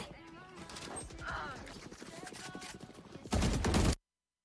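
Rapid gunfire bursts from a shooter video game, dense and loud near the end, with a voice talking over the shots throughout.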